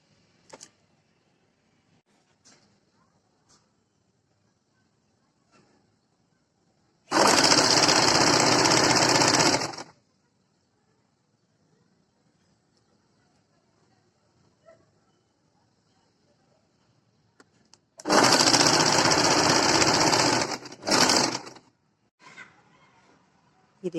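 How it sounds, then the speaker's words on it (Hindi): Two bursts of a sewing machine stitching the hem of a kurti, each running steadily for two to three seconds before stopping, with quiet handling sounds of fabric between them. "अपनी कुर्ती पर सिलाई लगा रहे हैं।"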